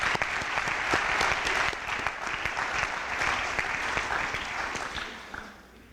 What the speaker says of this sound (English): let's give the student athletes, future award winners here, the coaches, a big round of applause.